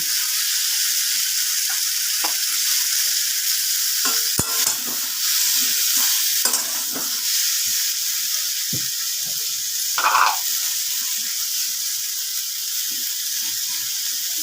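Chopped bottle gourd sizzles and fries in a pan with salt, a steady close hiss punctuated by scraping stirs and clinks of the spatula, with a brief louder burst partway through and no talking.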